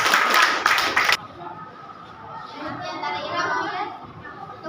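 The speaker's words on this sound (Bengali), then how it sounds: "সামনে যারা আছো তারা একটা হাততালি তো দিতেই পারো নাকি?" Sixth-grade students clap together in a classroom for about a second, a loud burst of overlapping claps that stops abruptly, after which children chatter and voices talk in the room.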